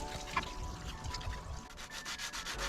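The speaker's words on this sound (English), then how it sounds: "I've got some 80 grit sandpaper and I'm just smoothing down the rough edges of that curb rash" Coarse 80-grit sandpaper rubbed by hand over curb-rashed edges of a salvage-yard alloy wheel, a steady scratchy scraping in short repeated strokes, close and continuous with no talk.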